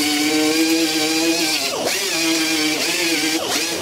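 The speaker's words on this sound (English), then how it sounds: "Now I'm roughing this up at about the grit 60." A power sander roughs up the bonnet of an MGB GT with 60-grit paper, a steady close whirring drone with two brief dips in pitch as the tool is lifted or shifted.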